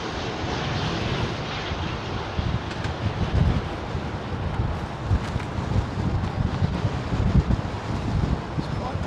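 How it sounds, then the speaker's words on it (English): Blustery wind buffets the microphone high up at an airport vantage point, a loud, continuous rushing roar with gusty low thumps and no break. "It's quite blustery, man, up at this height."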